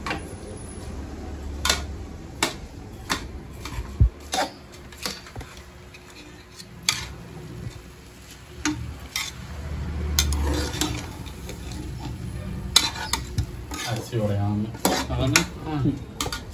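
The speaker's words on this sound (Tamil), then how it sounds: "அரிசி போட்டு வதக்கணும். வெங்காயத்தை ரொம்ப வதங்க விடாதீங்க. போட்டு நல்லா கிளறி விடணும்." A spoon scrapes and clinks against a pan while basmati rice and onion are stirred and sautéed, producing irregular metallic knocks and scraping strokes close up, with a faint sizzle underneath.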